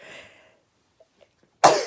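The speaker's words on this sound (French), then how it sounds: "Excusez, j'avais un gros atchoum à faire." A single loud, sharp sneeze bursts out close to the microphone at the end, after a faint murmur and near silence.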